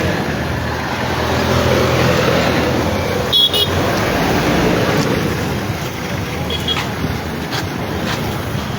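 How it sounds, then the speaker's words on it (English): Heavy road traffic rumbles continuously at Caldwell Bridge in Liberia, with car horns tooting briefly around the middle and later, and a faint voice under the steady roar. "this traffic is really huge"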